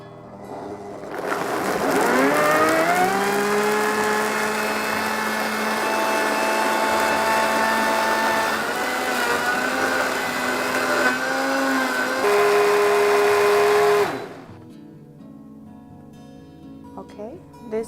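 A Froothie Optimum 9200A Vortex blender runs at full power on frozen black currants and avocado, a loud steady motor whine that rises as it starts, shifts pitch as the mix thickens, then cuts off near the end.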